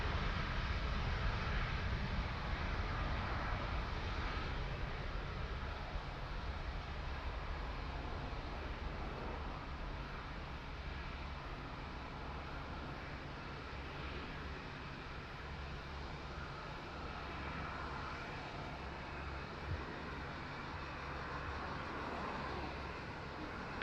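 A fixed-wing airliner on approach to runway 02 at Lisbon Airport makes a faint, continuous, distant engine rumble that holds steady throughout.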